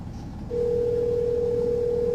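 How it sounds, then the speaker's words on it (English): A telephone dial tone plays through radio speakers, a single steady pure tone that starts after a brief pause and holds unbroken to the end. "Now I'm going to make a phone call with it, and let's see how it works."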